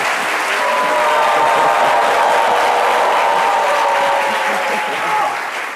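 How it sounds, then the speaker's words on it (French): Steady applause from a large audience, sustained and fairly loud throughout, with a dense wash of clapping that eases slightly near the end. "on peut applaudir pour Dieu, s'il vous plaît"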